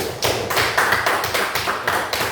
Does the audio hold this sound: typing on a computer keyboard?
no